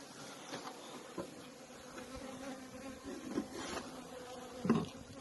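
Honeybees buzz at a nucleus hive in a soft, continuous drone, with individual bees swelling louder as they pass close by now and then.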